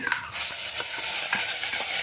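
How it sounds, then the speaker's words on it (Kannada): Ground masala paste for a quick tomato rasam hits a hot pan already tempered with mustard seeds, curry leaves and asafoetida, giving a steady close sizzle with soft scraping stirs and no voices. "ಈಗ ಇಲ್ಲಿ ರುಬ್ಬಿಟ್ಕೊಂಡಿರೋ ಮಸಾಲೆ ಹಾಕ್ಬಿಡ್ತೀನಿ"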